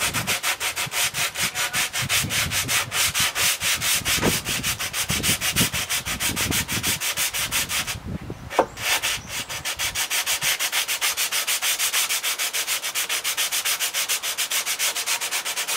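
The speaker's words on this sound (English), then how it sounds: "I take a sandpaper and I put my fingertips above it" Sandpaper rubs back and forth along the teeth of a vintage hand saw in quick, even strokes, a steady, close scratching rhythm that pauses briefly midway.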